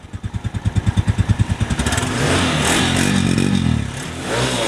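A 2022 Suzuki GD 110 motorcycle engine runs nearby, starting with a steady, loud thumping idle that builds into a continuous revving roar.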